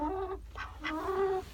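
Backyard chickens cluck in a short burst of several clucks and calls, close and moderately loud, with no talking.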